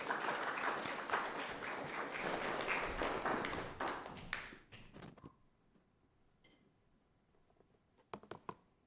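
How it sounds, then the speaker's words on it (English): A church congregation applauds Marisa Snook at a Sunday service, dense clapping filling the room for about four seconds before fading out, followed by near quiet and a few isolated taps and knocks. "let's all please give a big round of applause for Marisa Snook"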